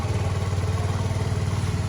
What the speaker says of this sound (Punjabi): ਸਟਾਰਟਿੰਗ ਐਕਟਿਵਾ ਚਲਾਉਣ ਦੀ ਹੌਲੀ ਹੌਲੀ ਚਲਾਈ